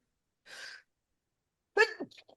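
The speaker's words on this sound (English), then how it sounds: "I'm gonna sneeze." A quick breathy intake, a pause, then a forceful sneeze up close with a few small trailing breaths after it.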